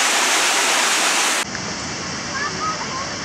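Broad rushing water where a river flows into the ocean at a beach lagoon, a loud steady wash that shifts abruptly in tone partway through, with faint voices in the background.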